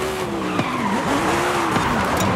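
A car in Forza Horizon 5 skids without braking, its tires letting out a loud, sustained squeal with wavering pitch over a steady engine roar, punctuated by brief sharp scrapes.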